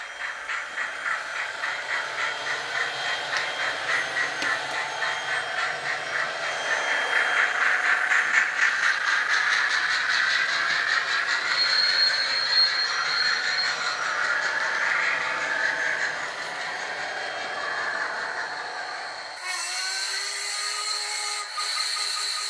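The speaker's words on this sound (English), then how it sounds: "once again we've got two trains running on the layout" Two TT:120 scale model trains run around a layout, a continuous whirring hum with wheel clatter close by, steady and fairly loud, ending with a sudden change to a thinner hiss near the end.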